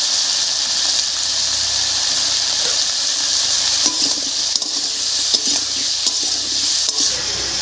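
Cut potatoes go into a pan of tomato and peas for a Bengali paneer, cauliflower and potato curry, bringing loud, steady sizzling with scraping stirs and clinks of utensil against pan.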